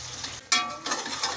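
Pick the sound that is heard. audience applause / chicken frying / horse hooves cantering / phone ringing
chicken frying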